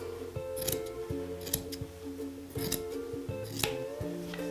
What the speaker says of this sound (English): I'm going to trim down this batting to about 3/4 of an inch shorter than my fabric.